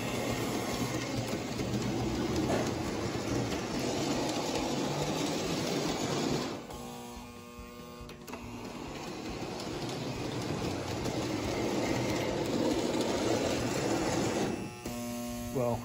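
Lionel Erie 2032 dual-motor postwar model train running on track, a steady mechanical whir and rail rumble with a brief drop in level midway before resuming, close and continuous.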